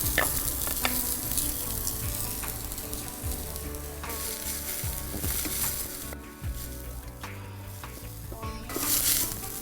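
Peanuts and chopped onion fry in a pan for a gongura dal dish, giving a steady, fairly loud sizzle with occasional stirring scrapes throughout.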